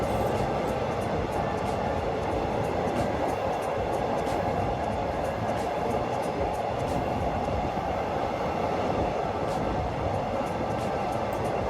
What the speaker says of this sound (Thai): มีขบวนรถไฟที่จะเข้าสู่สถานีรถไฟชุมทางบางซื่อและกรุงเทพหัวลำโพง